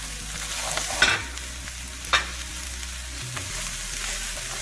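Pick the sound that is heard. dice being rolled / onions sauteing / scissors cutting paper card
onions sauteing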